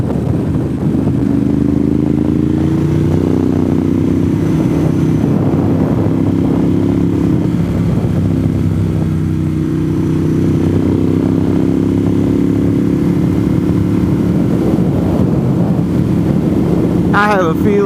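A motorcycle rides along a favorite stretch of road, its engine droning steadily and loud throughout with shifting pitch as it accelerates and eases, wind rushing over it, and a voice briefly speaking.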